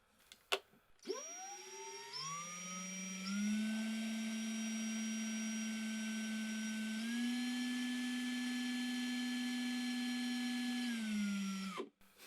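A motor-driven winder spins embroidery thread onto a bobbin, a steady high whine that rises in pitch as it speeds up, holds for about ten seconds with slight shifts, then winds down and stops.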